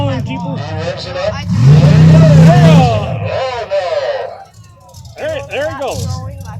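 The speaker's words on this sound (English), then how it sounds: "He revs it up." A Jeep revs its engine at a mud bog pull at the Ingham County Fairgrounds, a rising, sustained engine roar heard under an announcer's loud talk.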